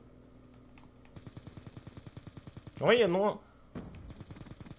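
Rapid automatic gunfire in a first-person shooter game, a fast even burst of shots, a brief gap and another burst, with a voice speaking over it.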